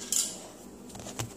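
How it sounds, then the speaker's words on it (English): Metal scissors are set down on a hard surface indoors, with a short clatter early on and a second small clink near the end, faint and isolated. "I gotta put my scissors right there"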